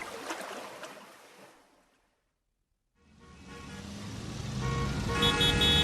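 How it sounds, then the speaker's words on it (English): Road traffic swells up, with vehicles passing fairly close and a horn tooting, then fades to a brief silence before traffic noise builds again, loud and busy toward the end. "There's a lot of traffic this morning."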